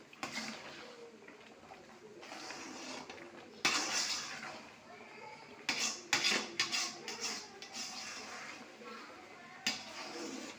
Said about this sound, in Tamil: நல்லா கிண்டி விட்டுக்கிட்டே இருக்கலாம் ஃப்ரெண்ட்ஸ்.